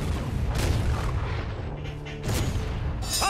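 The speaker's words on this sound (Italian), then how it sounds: "Fate tacere i cannoni!" Heavy booming cannon blasts from the video game Heroes of the Storm, several deep thuds and bursts over a dense rumbling battle background, loud and continuous.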